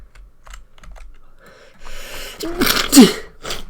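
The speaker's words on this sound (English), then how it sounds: "for being very warm, it still makes me sneeze" A person sneezes sharply and loudly near the end, with a gasping intake, after soft clicking key taps.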